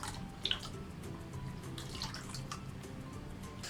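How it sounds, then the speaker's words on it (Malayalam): Kalathappam rice batter is spooned and poured into a pot, making a soft, watery splashing and trickling sound. It is quiet and close, with faint drips and no talk. "നമ്മളിങ്ങനെ സ്പൂണ് വെച്ചിട്ട് താഴോട്ട് ഇടുമ്പോൾ നമ്മൾ ഈ മാവ് ഇങ്ങനെ ഒഴിക്കുമ്പോൾ കറക്റ്റ് ആ ഒരു വെള്ളത്തിൻ്റെ സൗണ്ട് ഉണ്ടാവണം"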